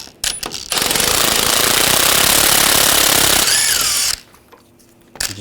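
Impact wrench on a 15mm socket removing lower shock bolts on a 2014-2018 GMC Sierra 1500, a loud sustained rattling burst of about three seconds, then a short whir as the tool spins down.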